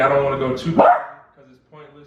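Someone talks steadily while a dog gives a couple of short, close barks that cut through his speech.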